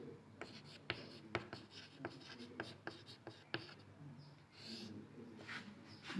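Chalk or pen scratches out quick strokes on a board during a Class 8 math lesson. The squeaky, uneven taps and scrapes are fairly quiet and come in a steady flurry with no speech over them.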